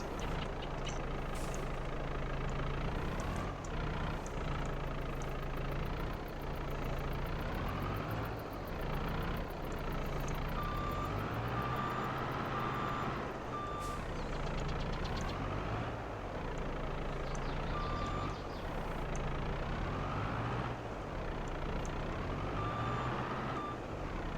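Reversing beeps from a skid steer in a farming video game, repeating steadily over a loud droning engine, with rumbling machinery and clunks throughout and no talk.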